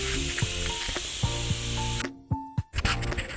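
Onion, tomato, garlic, ginger and cashews frying in a pan, a steady close sizzle with a few sharp clinks and scrapes from the spoon against the pan.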